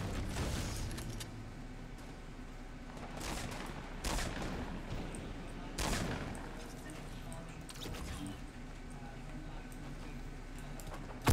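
Gunfire from the Fortnite Battle Royale video game rattles in dense bursts and single shots over a constant busy game soundscape, with louder booms now and then.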